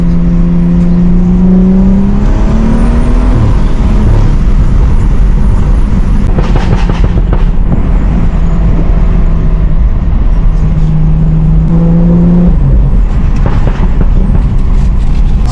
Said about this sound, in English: do a slight pull and just show you my exhaust setup